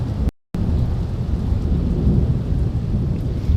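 Heavy rain beats steadily against a window during a thunderstorm, with deep rolling thunder rumbling continuously beneath it and a brief dropout near the start.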